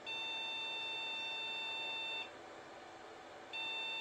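A vintage mini Pentium PC emits a long, high electronic beep at power-on that holds steady for about two seconds, stops, then starts again after a short gap, loud and close.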